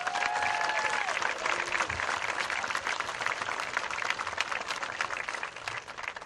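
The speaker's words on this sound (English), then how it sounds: "Let's recognize them with a round of applause." A large outdoor stadium crowd at a high school graduation applauds steadily, dense clapping sustained and loud throughout, with a faint tonal sound drifting in near the start.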